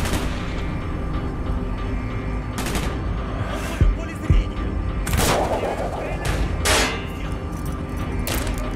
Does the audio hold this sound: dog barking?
no